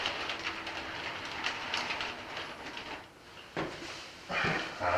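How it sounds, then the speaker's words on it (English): A model train locomotive with a running fault rolls along freshly cleaned tracks, a close, fluttering rattle of small wheels over rail joints that dips briefly and then picks up again. "this locomotive, I think, has got a little bit of an issue"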